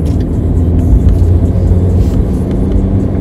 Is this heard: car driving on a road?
yes